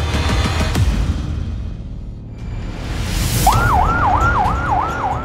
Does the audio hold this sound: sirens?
yes